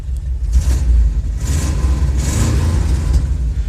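The engine of a 1959 Ford Thunderbird rumbles loud and close with a deep, throbbing low end, swelling in a few gentle revs over several seconds with no talk.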